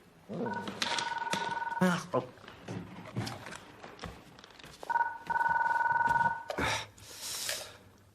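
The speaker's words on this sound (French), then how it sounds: "Allez, occupe-toi du téléphone." An old-style telephone bell rings in bursts at an indoor police setting, two long trilling rings separated by voices, footsteps and handling noises.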